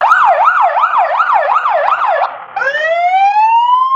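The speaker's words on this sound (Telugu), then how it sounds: "siren sounds by police" An AI-generated police siren wails in a rapid up-and-down yelp, then after a short break switches to a rising, sweeping tone, loud and close.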